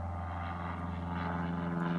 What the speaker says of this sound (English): There's a Cessna 152.